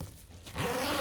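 A zipper on a smart luggage bag is pulled open in one quick, close rasping stroke after a brief quiet moment, with no talking over it.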